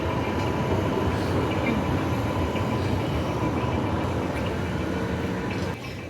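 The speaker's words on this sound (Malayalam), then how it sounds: "അതേ പോകുന്നത് ജാഫയിലെ മെട്രോ ആണ് കേട്ടോ" A metro train in Jaffa, Tel Aviv, roars past close by, a dense, steady rumble that stays loud for several seconds and then drops off sharply at the end.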